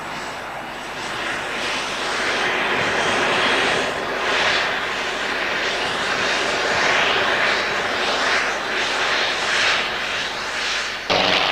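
English Electric Lightning jets on a training flight, a loud sustained engine roar swelling and surging in waves, close and continuous with no voices, ending abruptly.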